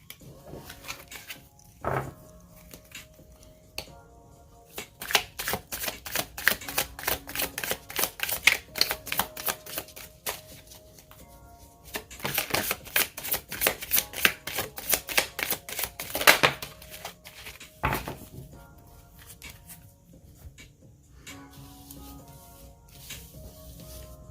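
Tarot cards being shuffled by hand in fast riffling bursts of crisp clicking and flapping, in several runs separated by short pauses, close and fairly loud with no talk.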